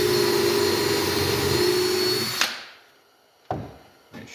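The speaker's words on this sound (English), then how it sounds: "I'll still just move over and drill me another pilot hole over here." A power drill whines loudly and steadily while boring a pilot hole in a wooden Langstroth beehive part, then cuts off abruptly, followed by a couple of brief clunks.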